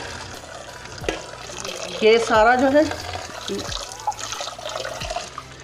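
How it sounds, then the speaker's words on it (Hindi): Cold tap water running over a cooking pot while cleaning moringa flowers, a splashing gush swelling in the middle and then easing, with someone speaking throughout. "ऊपर से साफ़ पानी जो है मैंने ठंडा पानी खोल दिया है।"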